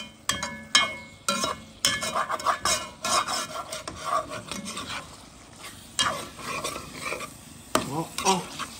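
Spring onion tops sizzle in a pan for a salt cod rougail, stirred with repeated scraping strokes of a utensil over a soft frying hiss, the scrapes coming in irregular bursts; no voices.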